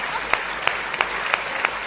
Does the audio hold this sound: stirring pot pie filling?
no